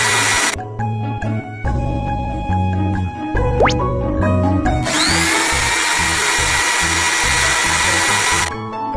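Power drills whir in a kids' truck construction game during foundation piling, loud grinding bursts that start, stop and change pitch, with a long sustained run near the end over light game music.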